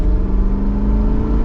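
A Mercedes G-Wagon V8 engine accelerating, a loud, steady low-pitched roar that holds strong throughout without letting up.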